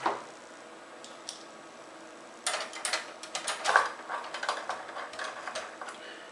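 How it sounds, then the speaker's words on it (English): A screwdriver drives small screws into heatsink clamps on a PlayStation 3 under repair, giving quick clicking ratchet-like ticks in short close bursts after a quiet pause. "Screwdriver."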